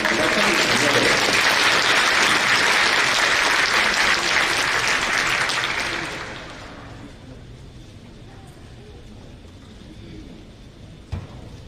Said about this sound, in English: Let's give these folks another big round of applause.